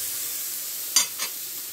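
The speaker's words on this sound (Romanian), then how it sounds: "Am pus și cârnațul la prăjit" A sausage frying in a pan gives a steady bright hiss of sizzling fat, with two short sharper crackles near the middle, close and unbroken.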